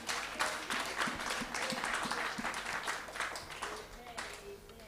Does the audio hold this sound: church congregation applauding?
yes